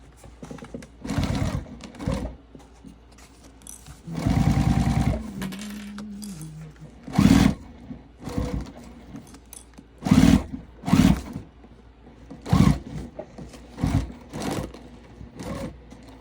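A sewing machine stitches a crossbody bag at a 3.5 stitch length without a walking foot, running in short close bursts separated by brief pauses, with one longer steady run near the middle.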